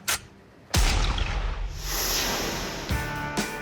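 Gunfire at a gun range, sharp loud reports with a long booming decay, one shot at the start followed by a heavy blast and two more quick shots near the end, close and without talk.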